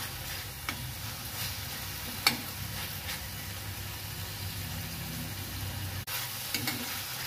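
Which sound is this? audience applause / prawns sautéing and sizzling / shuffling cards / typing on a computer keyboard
prawns sautéing and sizzling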